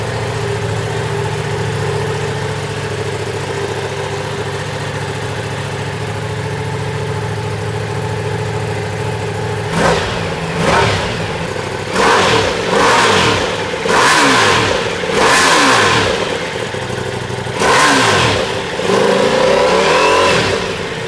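A 2022 Ducati Multistrada V4S fitted with slip-on mufflers idles steadily, then gives a series of sharp, loud throttle blips and revs, several quick bursts each followed by a falling rev, unloaded and up close with no talking.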